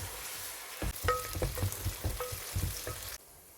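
Chicken korma ingredients frying in a pan while being browned to a golden colour, with steady crackling sizzle broken by repeated stirring scrapes and clinks, loud and close, until it suddenly drops quieter near the end.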